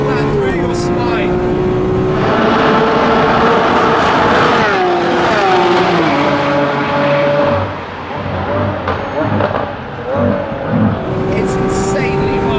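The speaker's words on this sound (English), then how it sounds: "start to feed in that power and keep it pinned. Full flat upshifts, and you feel that through your spine." A 770-horsepower Lamborghini Aventador SVJ accelerates hard at full throttle. The loud engine note climbs steeply in pitch, then drops sharply at each of several quick upshifts before climbing again, close and continuous.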